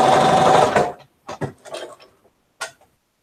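A sewing machine runs fast along a long quilt seam, a loud dense whirring burst of stitching that stops abruptly, followed by a few short clicks and handling taps.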